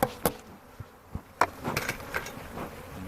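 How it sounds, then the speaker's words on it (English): Honeybees stirred up around an opened hive after shaking and smoking, with a faint steady buzz beneath several sharp knocks and thumps from handling the frames. "See all the bees there?"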